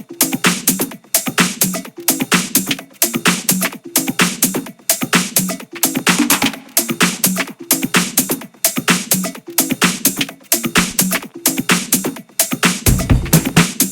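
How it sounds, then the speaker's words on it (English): Percussive rolling tech house drums programmed in Ableton pound in a tight, driving loop of punchy kicks, claps and busy percussion hits, loud and relentless with a steady repeating groove. "make banging percussive rolling drums"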